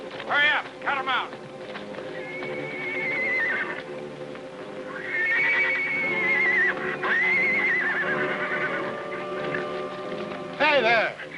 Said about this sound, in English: Leave them horses alone.